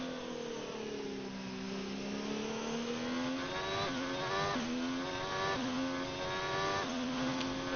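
A Ferrari Formula 1 race car engine in the F1 2019 video game on the China circuit, a high whining engine note climbing through repeated upshifts as the car accelerates out of turn 1, clear and continuous.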